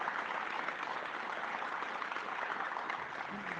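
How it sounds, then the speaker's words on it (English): An audience at a policy announcement in Winnipeg applauds steadily throughout, a soft, even wash of clapping heard from some distance with no voices over it. "give him a round of applause"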